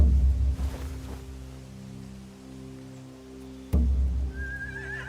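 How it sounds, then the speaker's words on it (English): A horse whinnies over low ambient rumble in The Walking Dead: The Final Season, followed later by a second burst of noise and a faint high call. "They have horses."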